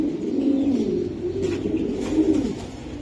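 A racing pigeon coos nearby in a loft, a low, throaty rolling call repeated in soft pulses, with no talk over it.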